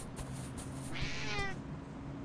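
A cat meows in a video game: a drawn-out, rising and falling meow rides over a steady hum of game background sound, clear and close, with no voices.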